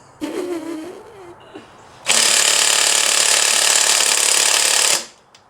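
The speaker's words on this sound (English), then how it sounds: "let's take these wheels off." A loud, continuous ratcheting buzz from an impact gun or ratchet removing the wheels of a VIP-style Lexus LS400, running steadily for about three seconds, with quieter mechanical handling noises just before it.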